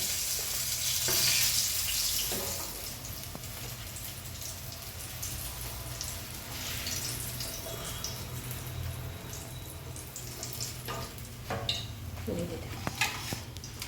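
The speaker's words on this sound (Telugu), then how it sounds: "ఇట్లా ఫ్రై చేస్తాం కాబట్టి కాయలు నిలవ ఉంటుంది" Bitter gourd slices frying in oil, a continuous soft sizzle and crackle with occasional stirring knocks, moderately close and steady.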